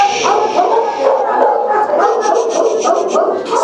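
A Staffordshire terrier cross barks at an animal shelter: loud, close, continuous barking mixed with yips and whimpering whines, filling the whole stretch with hardly a pause.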